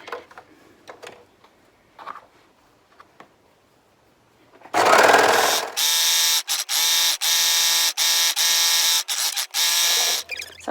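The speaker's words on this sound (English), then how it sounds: "I'm going to overlock all the way around" An overlocker sews around a knit headband: after a few quiet fabric rustles and handling clicks, the machine starts with a loud whirr, then runs in fast buzzing bursts broken by brief pauses as the seam goes around.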